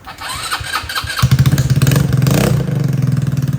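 The engine of an RPS ATV150 sport ATV cranks and catches, then settles into a loud, close, rapid putter at idle.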